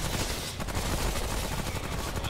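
Dense, continuous automatic gunfire from the video game Remnant rattles loud and close, rapid shots blurring into a constant roar with no pauses.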